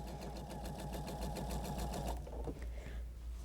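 A sewing machine runs quilt squares straight onto the next block in a continuous chain, its close, steady rapid stitching holding for about two seconds before slowing and trailing off.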